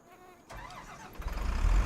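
A truck engine in the Farming Simulator 25 video game turns over after a quiet moment, then builds into a loud, pulsing rumble that grows stronger toward the end, with no voices.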